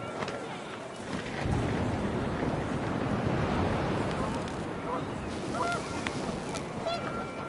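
In the video game What Remains of Edith Finch, wind picks up into a loud, steady roar that swells after a moment, with scattered goose honks mixed in and a voice talking over it.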